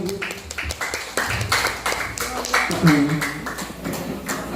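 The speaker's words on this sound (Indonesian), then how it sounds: "Kasih tepuk tangan dulu Bapak Ibu." An audience of teachers applauds at a school presentation on positive discipline culture. Scattered, uneven claps continue for several seconds, mixed with talking.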